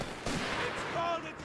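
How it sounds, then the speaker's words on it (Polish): Short burst of video game machine gun fire, a rough rattling blast lasting about a second, with some voices in the background. "te dźwięki strzału są masakryczne, nie? Ten MG na przykład, to tak pierdzi"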